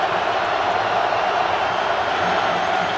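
A large crowd at an NFL football game between the Indianapolis Colts and Baltimore Ravens gives a steady, dense roar of booing over a penalty call, sustained and even throughout.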